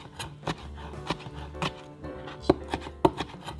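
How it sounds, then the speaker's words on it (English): A very sharp knife chops tomatoes on a board: a dozen or so crisp, irregular cuts ringing out close by, with no voices over them. "Kind of wanted to watch that knife cut through tomatoes."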